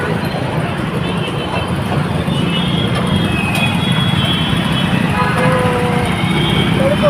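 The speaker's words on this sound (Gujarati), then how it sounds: "ફૂલ ટ્રાફિક જોરદાર." Heavy road traffic under a bridge on a busy route, a dense continuous roar of passing vehicles with occasional horn toots, steady and fairly loud throughout.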